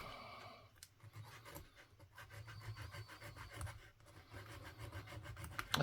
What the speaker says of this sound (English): Bear with me. It's a tiny file.